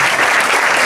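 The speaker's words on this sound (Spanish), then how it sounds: "para que me den un aplauso" A burst of theatre audience applause on a premiere night, loud close clapping from a packed house for a brief moment.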